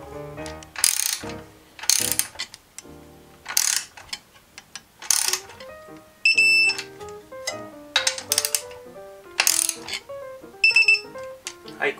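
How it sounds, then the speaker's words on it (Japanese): A torque wrench tightens the crank bolts of a Shimano 105 FC-R7000 road bike crankset, giving close, sharp repeated ratcheting clicks in short bursts separated by brief pauses. "これ以上はトルクレンチで締めていくんですけども"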